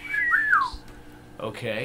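A voice whistles to imitate wind blowing through a dark tunnel during a tabletop role-playing game, one gliding tone that rises and falls, then someone speaks briefly.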